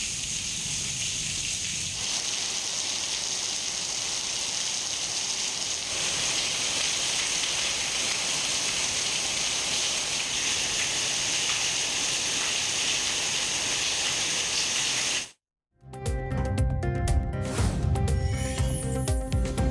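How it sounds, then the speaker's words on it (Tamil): Heavy rain falling steadily in a dense, loud hiss for about fifteen seconds, then a brief silence before a different, busier sound takes over; no thunder stands out. "சுமார் 5 மணி நேரம் இடி மின்னலுடன் கொட்டி தீர்த்த கனமழை"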